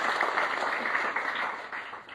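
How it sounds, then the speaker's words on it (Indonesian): A church congregation at an Indonesian sermon breaks into sustained applause, a dense, even wash of many hands clapping throughout, fairly loud and without speech. "Tepuk tangan yang terbaik buat Tuhan Yesus Kristus."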